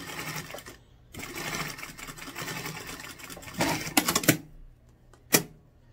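A sewing machine stitches a backstitch on fabric for a rounded zip pouch, running in a steady whirring burst for several seconds, pausing, then a few short louder bursts near the end, close and clear with no talk.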